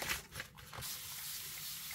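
Ink is sprayed onto recycled paper in a soft, close hiss that opens with a couple of short puffs and then settles into a steady spray.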